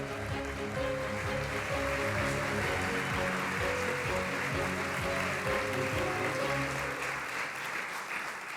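An audience at the Service to America Medals gala applauds to welcome a speaker, a steady, fairly distant wash of many hands clapping that continues throughout while music plays beneath.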